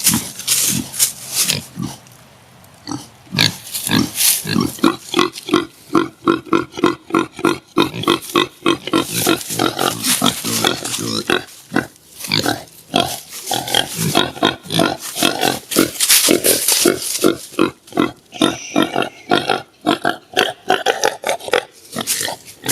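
Pigs on a farm squealing and grunting loudly and almost continuously, with rapid overlapping shrieks and oinks close by for the whole stretch.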